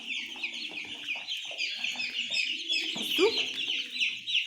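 Native hens cluck steadily close by while pecking at a homemade fattening feed mix, a few louder squawks rising above the flock, with someone briefly speaking over them.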